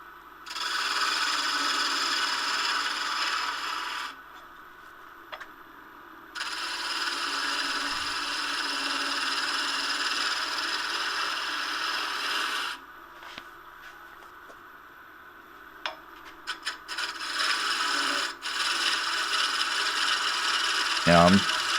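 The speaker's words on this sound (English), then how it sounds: "So I switched over to my P&N roughing gouge. And I'm just getting that rough shape formed." A P&N roughing gouge cuts spinning River Sheoak on a wood lathe, giving a loud, steady rasping hiss in long bursts that stop and restart, with brief scrapes and taps between cuts.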